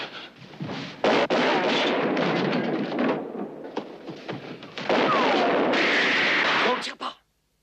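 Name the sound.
gunshots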